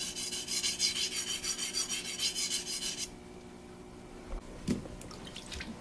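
Japanese knife blade rubbed rhythmically over a wet blue whetstone block, a rapid series of rasping strokes for about three seconds, then quiet with a couple of faint knocks and drips nearby.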